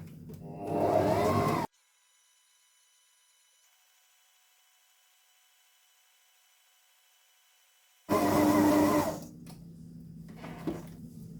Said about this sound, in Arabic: هبس فيها لحد ما الاقيها بقت زي العجينة كده